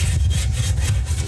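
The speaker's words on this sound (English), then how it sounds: "taking a clean brush and just work it" Brush scrubbed back and forth over a rust treatment puddled on a small metal engine part, a close, steady rasping rub in quick repeated strokes, with no talking.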